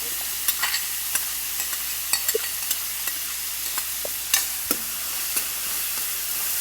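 Crushed green chillies frying in a pan, with a constant close hiss and sizzle broken by frequent light scraping and clinking as they are stirred.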